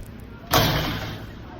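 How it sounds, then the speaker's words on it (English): Sudden metallic clang and thud as a trailer gate drops open at a festival, one loud close impact that rings and decays over about a second, with a voice also present. "all I've got to do to get started is drop this gate"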